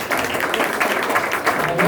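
Applause rises from the congregation at an evening worship gathering as a singer and tabla player is welcomed. Dense, steady clapping runs throughout the clip, blended with a voice speaking over it.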